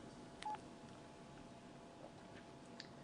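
Key tones ring out from the keypad of an LG enV3 phone for Verizon as buttons are pressed, a few short, faint beeps spaced apart over a quiet background.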